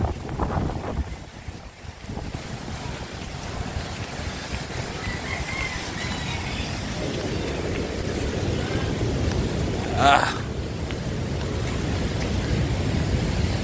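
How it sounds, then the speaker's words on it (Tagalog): Strong outdoor wind roars steadily against the microphone near open water, a dense continuous rush that holds throughout with a brief higher whistle or squeak partway through. "malakas ang hangin dito"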